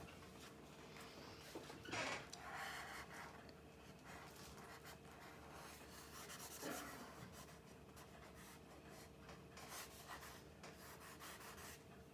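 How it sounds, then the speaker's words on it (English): An eraser rubbing on a drawing, faint and close, with soft continuous scrubbing and a couple of stronger strokes. "I go back in with my eraser again."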